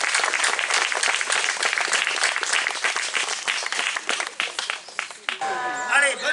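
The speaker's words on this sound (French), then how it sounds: "on peut applaudir encore une fois tous les acteurs de ce tableau" Loud, close applause from a crowd honouring the performers of a tableau at the Saint Guénaël pardon festival, crisp individual claps throughout, tapering off before a different sound takes over at the end.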